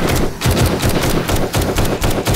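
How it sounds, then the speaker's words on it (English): Rapid, loud gunfire from a firearm in the zombie survival game 7 Days to Die, with repeated bursts of shots in a steady, punchy rhythm running through the whole stretch, close and dominant with no talk. "Your gun is so loud."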